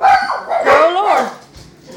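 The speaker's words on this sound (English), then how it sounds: "That's just my dog" A pet dog barks several times in quick succession at close range, sharp yapping woofs, while a person speaks briefly over the barks.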